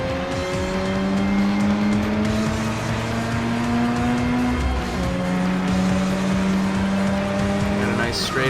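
Race car in Forza Motorsport 6, a loud steady engine drone with gear changes, tire squeal and rain-like hiss as it slides across the track.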